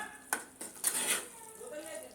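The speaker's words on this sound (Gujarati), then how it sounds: "આ રીતે હલાવી દઈશું." A spoon stirs cut potatoes in a pan on a gas stove, a few clanking scrapes of metal against the pan over a faint sizzle, close and moderately quiet.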